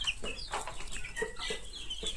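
Sonali chickens in a brooding setup cluck in short, repeated calls, several birds close by over a low steady hum, with no talk.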